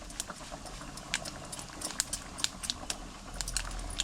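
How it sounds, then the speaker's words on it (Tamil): Mustard seeds, with cumin and three dried red chillies, spluttering and popping in hot oil in a village kitchen, a dense run of sharp crackles over a steady low hiss, close and fairly loud with no talk. "கடுகு நல்லா பொரிஞ்சிருச்சு"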